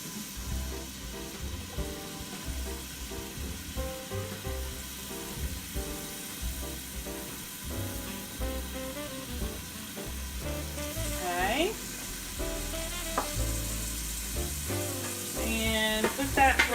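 Onion fries in hot oil in a pan, giving a continuous moderate sizzle with occasional stirring scrapes, the crackle growing slightly louder and busier toward the end.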